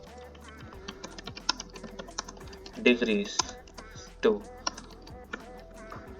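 Rapid keystrokes on a computer keyboard clatter in irregular bursts, with a few louder clusters of taps, while someone speaks quietly over the typing during Python coding.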